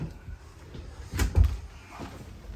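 A slow-closing cabinet door in a 2025 Forest River Rockwood Mini Lite 2509S travel trailer eases shut with a soft sliding whoosh and a muffled double thump, quiet and close in a small interior.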